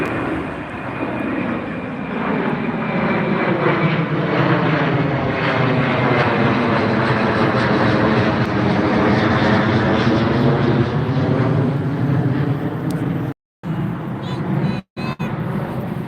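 An airliner climbing out after takeoff from Heathrow Airport gives a loud, steady jet roar that holds for about thirteen seconds with a slowly shifting tone, then cuts out abruptly.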